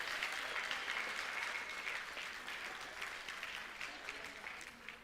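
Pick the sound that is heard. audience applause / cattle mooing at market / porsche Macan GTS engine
audience applause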